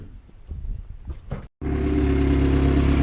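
A turbocharged Honda Civic idles after a cut, a loud, steady, close engine drone with a low rumble following an earlier stretch of knocking and clatter.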